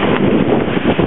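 Northeasterly wind buffeting a sailboat at sea, a loud, constant rushing roar of wind across the microphone with no voices.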